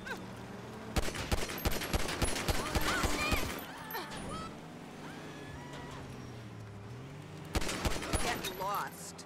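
Rapid bursts of gunfire from the video game GTA 5 with a modded weapon, loud fusillades at the start and again near the end, with engine hum and faint speech between.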